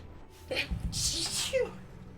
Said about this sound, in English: I was just in the middle of sneeze